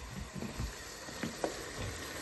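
Onions frying in a pan while chana is cooked for a school Eid party, a steady soft sizzle with faint crackles and a couple of brief stirring clinks, no voices.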